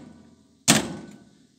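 A Bombardier snow vehicle door swings shut with a single loud, close thump that rings briefly and fades, with no talk over it.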